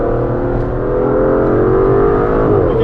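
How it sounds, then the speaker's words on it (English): An Aston Martin DBS Superleggera Volante's V12 engine sings steadily and loudly from an open-top cabin, its tone climbing gradually as the car accelerates, with wind rush underneath and no talking. "The wind in your hair, a V12 singing in the back."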